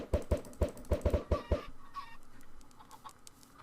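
A blocky Minecraft chicken gives a quick run of about eight sharp, clipped clucks in a fast rhythm, then falls silent while faint background hiss lingers.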